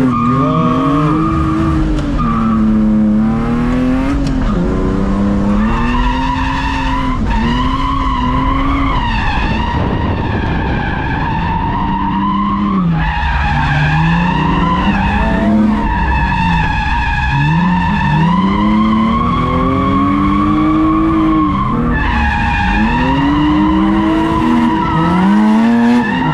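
A BMW drift build slides through a long skid, its engine revving hard in rising and falling sweeps beneath constant loud tire squeal, with no pauses across the run.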